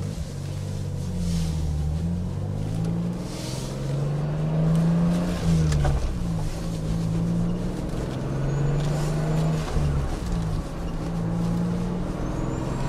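A Toyota Supra JZA80 drives steadily with a continuous engine drone, the pitch rising and falling gently through shifts during a transmission check, with a brief rattle partway through.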